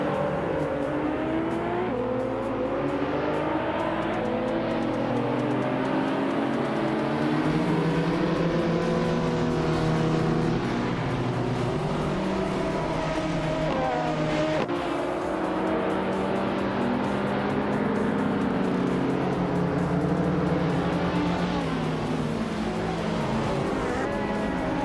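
Race cars, led by a 2012 Nissan GT-R, roar away at the start at Yas Marina, with layered engine notes rising and shifting continuously as several cars accelerate together, loud and sustained throughout.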